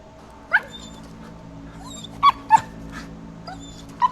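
A dog out at night in a forest gives four short, sharp yips or barks, spaced irregularly and fairly close, over a low steady background hum.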